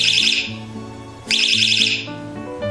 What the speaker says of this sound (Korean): 도둑이 자물쇠를 끌기 위해서 자전거를 이제 움직이게 되면